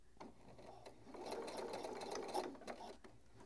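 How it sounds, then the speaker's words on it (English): Sewing machine stitching fabric with boning, a quiet close mechanical whirr that builds in the middle and then eases off, with brief stops around the pivot. "So leave the needle in, lift the foot, and then pivot and sew the other side."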